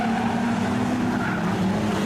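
A street stock race car spins around on the main straightaway at a dirt speedway, its engine a steady loud drone with some tyre scrub, close and continuous throughout.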